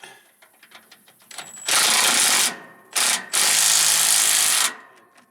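An impact wrench fitted with a regular chrome socket works on a MacDon 5000 haybine, firing two loud, sustained hammering bursts close up after a few light metallic clicks.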